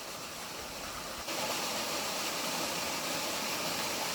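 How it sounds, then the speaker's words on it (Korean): Cool, steady rush of flowing water in a rocky valley with twin waterfalls, a dense broadband roar that swells slightly louder partway through and continues unbroken with no voices. "약간의 피로감이 싹 달아날 듯 시원한 물소리입니다."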